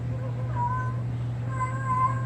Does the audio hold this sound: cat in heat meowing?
yes